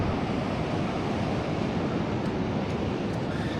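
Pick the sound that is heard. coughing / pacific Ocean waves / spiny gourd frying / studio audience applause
pacific Ocean waves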